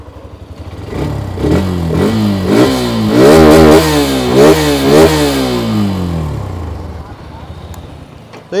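A Hero Xtreme 125R motorcycle engine revved hard about half a dozen times in quick succession, each rev rising and falling, loud and close, then settling back toward idle.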